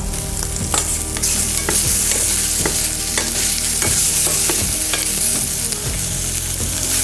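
Lardons frying steadily in a pan, a dense continuous sizzle with repeated scraping knocks of a utensil stirring through the pieces, loud and close with no talk.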